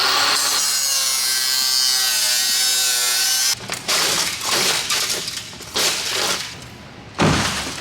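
A power tool cutting into the bodywork of a crashed car, first a steady high-pitched whine, then harsh, grinding bursts of metal cutting in short, loud passes, close up.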